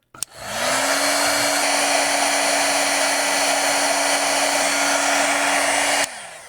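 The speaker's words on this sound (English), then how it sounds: "Switch on my heat gun." A heat gun shrinks tubing onto a glasses arm. It clicks on, then gives a loud, steady blowing roar with a constant motor whine, close by, for about six seconds before switching off.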